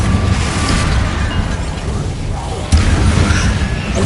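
The Bombarda explosion spell from Hogwarts Legacy on PS5 produces a loud, dense, continuous blast roar with a heavier impact partway through.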